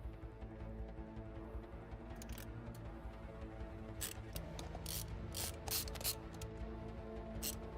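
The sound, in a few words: screwing screws back into a computer or console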